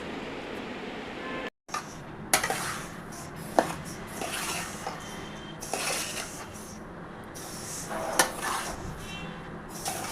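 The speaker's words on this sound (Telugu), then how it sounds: "నువ్వు లడ్డుకి నువ్వులు వేయించుతున్నాను." White sesame seeds dry-roasting in a pan for laddu give a steady close rustling scrape of seeds and spatula on metal, broken by several sharper clanks and taps over about ten seconds, with no voices.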